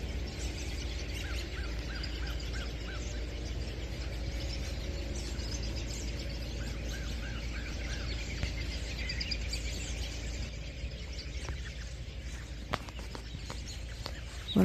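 Many birds of unknown species chirp and call continuously in the wild in southwestern Virginia in late December, a dense, steady chorus over low background rumble, with a few sharper sounds near the end.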